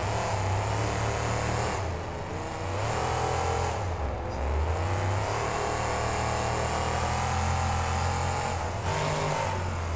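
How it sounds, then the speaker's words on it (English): A monster truck's engine in the BeamNG Drive video game revs continuously during a freestyle run. It is a loud mid-pitched roar that surges and sags, with a brief dip around the middle, and no voices are heard. "Mark Schrader doing some great driving here in his freestyle"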